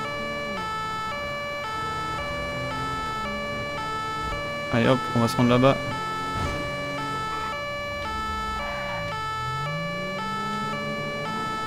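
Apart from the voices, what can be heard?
police car sirens in video game GTA 5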